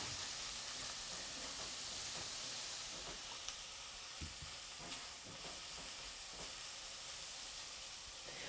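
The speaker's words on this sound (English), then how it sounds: "I'll put this in now with the leeks and give the potatoes a chance to start cooking." Potatoes and leeks cook in a pot for sorrel soup, giving a faint, continuous hiss with a few small pops and clicks throughout. No voices are present.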